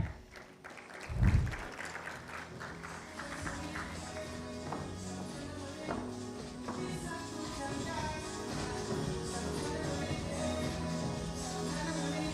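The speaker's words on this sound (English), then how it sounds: "Another warm round of applause for Zef." Audience at a SADC business forum applauding a presenter, a steady patter of many hands clapping at moderate distance, sustained with no voices over it.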